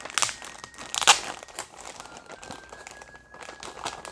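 Taped plastic packaging from a Dragon Ball figure set crinkles and crumples in short handled bursts, close up, with one louder crunch partway through.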